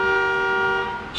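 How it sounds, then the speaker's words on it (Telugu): A single sustained car horn blast sounds loud and close with a steady tone, then fades at the end. "car horn మోగిందంటే"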